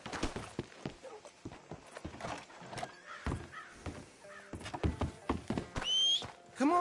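Horse hooves clip-clop at a walking pace in the video game Red Dead Redemption 2, close and uneven, with a bird cawing briefly near the end.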